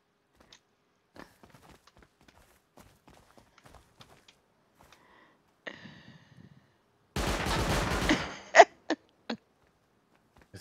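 Gunfire in a first-person video game: scattered faint clicks and small pops, then a loud, dense burst of automatic fire lasting about a second, followed by a few sharp single shots.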